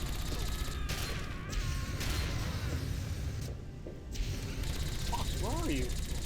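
Rapid gunfire bursts from the Fallout 3 video game on very hard difficulty, dense and continuous under game noise and mechanical clatter, with a voice talking over part of it.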